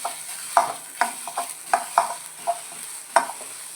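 Pavta beans dry-roasting in a pan, stirred with a spoon that scrapes and knocks at a quick uneven rhythm over a quiet sizzle, close and clear with no talking.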